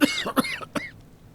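A coughing fit from an elderly cleric in an Octopath Traveler cutscene, three close, sharp coughs in quick succession, loud and alone.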